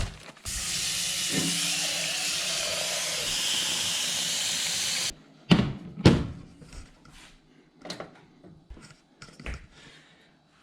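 A pot of water heating on a stove for pasta gives a steady, loud hiss for several seconds, then cuts off, followed by scattered clunks and knocks of kitchen handling.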